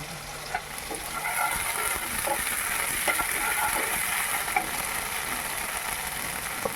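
Ground mustard paste and green chili fry in oil with a steady sizzle, while a utensil stirs through it in scattered scrapes and taps, continuous and close by.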